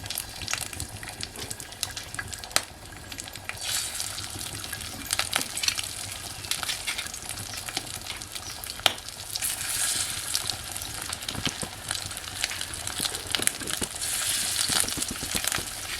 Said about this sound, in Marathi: चला आता मासे फ्राय करून घेऊया.